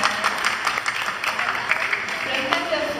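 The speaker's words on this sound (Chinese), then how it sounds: "拍拍手，谢谢你们。" Audience clapping at a youth summer camp closing ceremony in Toronto, a moderate crowd patter with some sharper individual claps, heard at modest level beneath a speaking voice.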